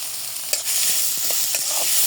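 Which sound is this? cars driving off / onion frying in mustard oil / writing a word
onion frying in mustard oil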